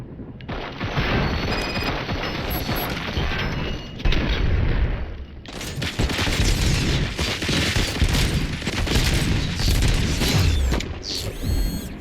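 RoboCop: Rogue City combat gunfire rattles on for several seconds as heavy, continuous shooting with mechanical clatter. A short gap breaks it before the loud firing resumes and runs to the end.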